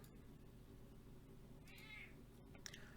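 A cat gives two short meows close by, one drawn out and one brief, over a quiet background hum.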